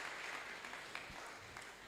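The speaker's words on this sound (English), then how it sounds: "let's give him a round of applause for that" An audience at a leadership talk gives a round of applause, a steady wash of clapping that carries through the whole moment at moderate distance, with no voices on top.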